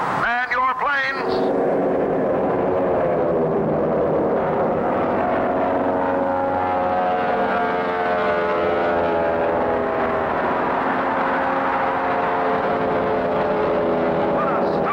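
Racing airplane engines in a cartoon air race: a loud sputtering start, then a steady droning roar that holds and builds without letting up.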